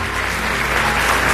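A congregation applauding at a Brazilian evangelical church service, with steady, dense clapping that fills the whole moment at a fairly close, even level.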